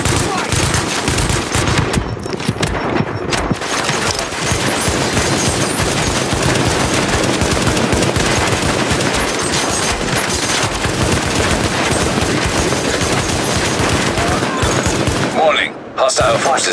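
Sustained heavy gunfire in Tom Clancy's The Division video game, dense automatic bursts and shots, fills the scene almost continuously at close range, with shouted voices mixed in.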